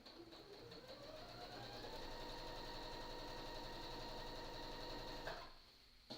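A sewing machine races at high speed stitching a slouchy tote bag, a steady, close, buzzing whir that rises in pitch as it speeds up, holds for several seconds, then stops abruptly.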